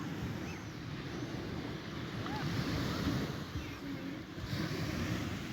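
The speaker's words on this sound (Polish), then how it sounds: "To jest plaża, to jest plaża w Sztutowie." Waves roll onto the beach at Sztutowo on the Vistula Spit in a continuous, even surf roar, with wind buffeting the microphone throughout.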